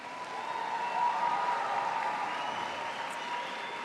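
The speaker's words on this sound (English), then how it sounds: "If I can have a round of applause for all of our automotive graduates." Steady applause from a graduation ceremony audience honoring automotive graduates, a soft even wash of many hands clapping at a distance, fairly faint and continuous.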